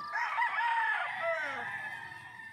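A White Kelso gamefowl rooster crows once in a long, loud, harmonic call held for about two seconds and fading toward the end, with no other voices.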